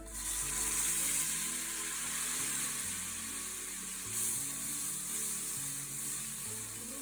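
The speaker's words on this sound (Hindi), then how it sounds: "अब देखिए इस स्टेप पे थोड़ा सा पानी शामिल करते हैं।" Steady loud sizzling and hissing as water is added to a hot frying pan while cooking turnip and spinach bhujia, with faint stirring clatter underneath and a brief surge partway through.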